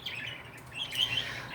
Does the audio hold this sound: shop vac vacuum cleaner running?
no